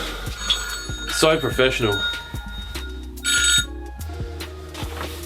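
A telephone rings repeatedly in a workshop setting, with people talking over it.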